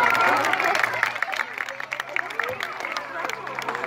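A zoo crowd applauds at a sea lion show, with scattered clapping that fades and thins over a few seconds amid background chatter and a low steady hum.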